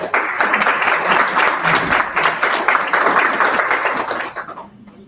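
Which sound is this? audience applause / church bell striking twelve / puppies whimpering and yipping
audience applause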